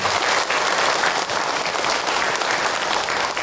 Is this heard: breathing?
no